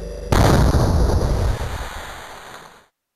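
A huge cinematic explosion boom representing the Big Bang bursts in after a brief quiet start, then rumbles and slowly fades away over a few seconds, with no voices.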